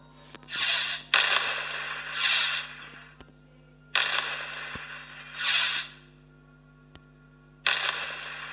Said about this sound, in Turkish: havai fişek patlıyor.